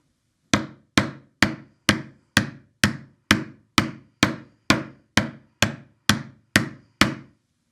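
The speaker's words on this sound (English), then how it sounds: "take my hammer here, and just gently whack it a few times" A hammer gently strikes small metal ornament hooks in an even rhythm, about fourteen sharp, ringing taps spaced roughly half a second apart, close and clear with nothing else around.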